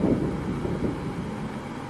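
A sheet being shaken by a foley artist to imitate distant thunder: a low, soft rolling rumble that swells at the start and then fades into a long, dull tail.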